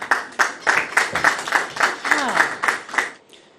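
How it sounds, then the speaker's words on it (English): An audience at a university ethics challenge event claps for the competing team: a short, uneven burst of scattered hand claps with some voices mixed in, tapering off near the end. "Clap for them."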